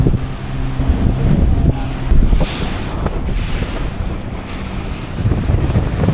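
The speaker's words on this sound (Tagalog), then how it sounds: "Medyo nahihirapan yung makina natin." A boat at sea in a storm, its engine struggling, heard under loud wind buffeting and crashing waves, a rough, continuous roar that surges and fades.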